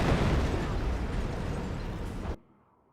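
Artillery blast in the World War II strategy game Company of Heroes: a loud, broad rumbling explosion filling over two seconds, then cutting off sharply into near silence.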